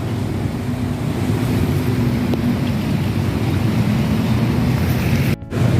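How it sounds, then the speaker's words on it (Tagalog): A swollen river rushes hard during a typhoon flood, a loud, steady broadband roar of fast water that continues throughout, close to the microphone, with a brief dip near the end. "mataas na yung tubig ng ilog. Nakakatakot, napakatahimik, napakalakas ng tubig"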